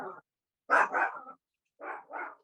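A dog barks nearby indoors: one bark, then a double bark after a pause, then another pair of barks, each moderately loud.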